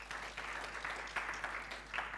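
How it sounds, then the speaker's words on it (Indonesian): A church congregation at a Sunday service claps together in a brief round of applause with a few sharper claps in it. The sound is fairly faint, and a low steady hum runs underneath. "Boleh tepuk tangan bagi dia."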